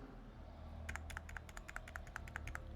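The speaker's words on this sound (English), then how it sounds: "I have a slightly clicky keyboard. Maybe you can hear that." Typing on a slightly clicky computer keyboard, a run of quick, fairly faint key clicks in uneven rhythm over a low background hum.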